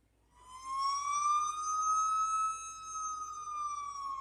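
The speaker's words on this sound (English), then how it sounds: "police sirens rang out" A police car siren wails steadily, rising and slowly falling in pitch, heard from some distance over faint background noise.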